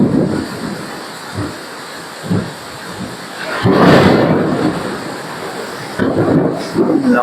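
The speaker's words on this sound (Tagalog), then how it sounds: "Ayan, lakas na ulan." Heavy rain pours down with rumbling thunder during a storm across from a small store, a loud steady roar swelling into a deep thunder burst midway, while a voice calls out briefly over it.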